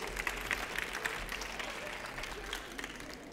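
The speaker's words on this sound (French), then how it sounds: "Je vous demanderai d'applaudir Monsieur Alain Braillard" Audience applause greets a cook at a culinary event, a faint, distant patter of clapping from a modest crowd that continues evenly for a few seconds.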